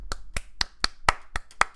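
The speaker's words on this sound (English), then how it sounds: "Clap, guys." A single person claps seven times in a quick, even rhythm, each clap crisp and close, during an online group presentation on Discord. No voices are heard.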